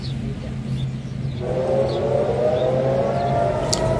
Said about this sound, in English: the air raid sirens, they're still sounding, you can hear them